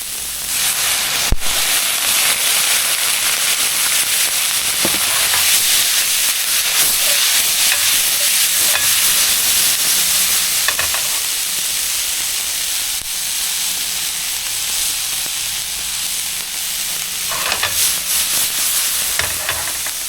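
Rice wine hits a hot pan used for golden tilefish char siu, raising a loud, continuous sizzling hiss of steam that carries on steadily with occasional sharp clicks and scrapes.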